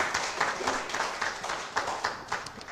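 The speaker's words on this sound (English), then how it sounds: "Give the Lord a hand clap." A church congregation claps together after a prayer, giving a steady, moderately loud patter of many hands with no voices over it.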